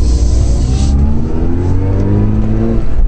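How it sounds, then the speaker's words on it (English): Mazda RX-8 rotary engine revving hard as the car shifts up through the gears, a loud close continuous engine note rising in pitch with each gear. "We did like the sound it made while moving through the gears."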